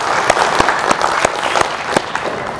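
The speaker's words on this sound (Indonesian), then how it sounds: "Tepuk tangan, ya." Applause from a volunteer rally audience, dense clapping with a few sharp, distinct louder claps close by punctuating the steady crowd sound.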